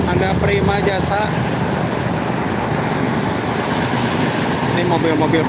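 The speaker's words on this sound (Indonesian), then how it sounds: "Ini mobil-mobil pribadi ya banyaknya." Steady, loud roar of heavy traffic on the Cikampek toll road near the KM57 rest area, with private cars streaming past continuously and no break in the noise.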